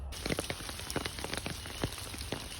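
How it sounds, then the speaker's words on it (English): Light hail patters steadily on a surface, a dense spray of small ticks and taps with no voices. "That little bitty bit of hail."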